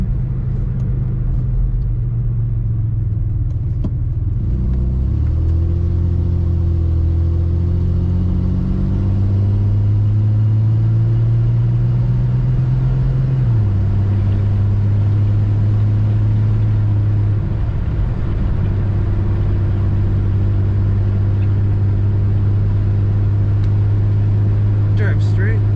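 A 1983 Ford Mustang GLX convertible drives along with a steady, loud engine drone and road rumble, its pitch stepping up and down through gear changes; a voice talks intermittently over it.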